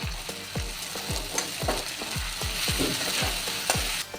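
Meat and chopped tomato stir-fried in a pan for a Bengali meat ghugni: a spatula scrapes the pan in a steady rhythm of about ten strokes, close and loud, under a continuous sizzle, with no talking.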